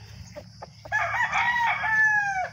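A fighting rooster crows loudly and close on a small farm, the call rising and trailing off, with a few short clucks just before it.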